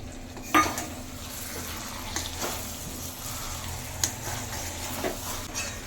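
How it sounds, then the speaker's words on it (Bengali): Mutton fries with potatoes and added fat in a pan, giving a continuous close sizzle with occasional spoon scrapes and knocks as it is stirred. "আলু দিয়ে কষাবো। আর এই চর্বিটাও এখন দিয়ে দিচ্ছি।"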